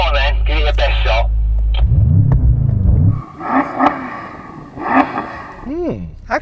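A BMW M5 engine revs loudly up close, rising and falling in a throaty roar for a few seconds, then people start talking.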